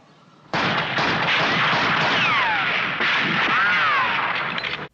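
Soldiers fire five rounds rapid in Doctor Who, a dense sustained volley of shots that starts abruptly and holds for several seconds under a whistling, wavering tone.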